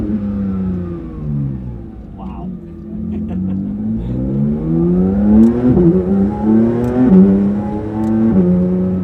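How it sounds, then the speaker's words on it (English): A Porsche 911 S/T with an Akrapovic exhaust revs repeatedly, its pitch climbing and dropping in loud, close sweeps over about nine seconds, with an occasional sharp crackle. "of course that Akrapovic exhaust. It's mind-bending, that sound."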